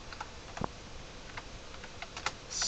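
A computer keyboard being typed on, with soft, sparse key clicks and one louder tap.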